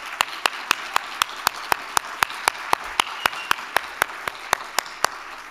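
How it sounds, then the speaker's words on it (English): At a conference day's opening session, clapping comes as a steady, evenly spaced run of crisp, close claps lasting several seconds, almost metronomic, with little crowd noise underneath. "Could we please have a round of applause?"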